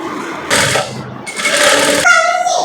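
A sewing machine stitches a sleeve onto a short gown in two close, steady bursts of fast mechanical whirring, separated by brief pauses, ending with lighter handling noise.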